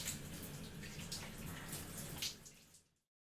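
A shower runs with cool water, a faint, steady hiss of spray falling and splashing, fading out at the end.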